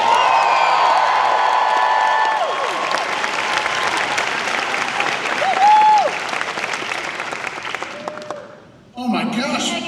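Applause and cheering from a packed room at a Halloween Horror Nights convention panel, a dense steady roar of clapping with whoops, fading toward the end before voices return.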